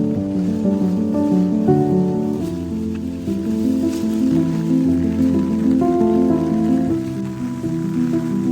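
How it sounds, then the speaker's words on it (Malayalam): Rain falls at a hidden lake spot in Denmark in a steady, dense patter. A sustained low tonal drone runs underneath, and no one talks. "മഴ പെയ്യുന്നടാ"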